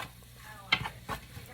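Bolognese vegetables sweat in a pot, giving a low sizzle with a few scraping stirs of a utensil, close and fairly quiet.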